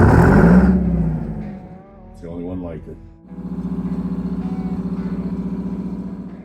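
Someone speaks briefly, then a tractor engine cranks and catches, settling into a steady, loud idling rumble that continues to the end.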